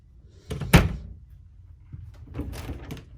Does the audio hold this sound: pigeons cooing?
no